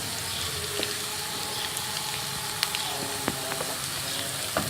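Mashed brinjal for baingan bharta sautés in hot oil in a pan, a steady close sizzle and crackle with small spatters and occasional light clicks of stirring.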